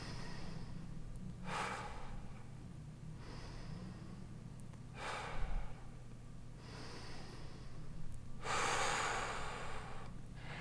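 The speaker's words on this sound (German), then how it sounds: "Ich atme 3-mal tief ein und aus." Deep breaths drawn in and out three times, with a loud breathy rush around the 1.5, 5 and 8.5 second marks, each rising and fading over steady low background hum.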